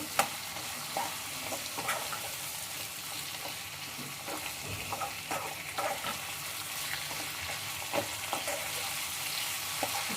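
Raw banana dry palya sizzles steadily in a pan with salt just added, while a spoon stirs it with frequent scraping clicks against the metal. No voices are heard.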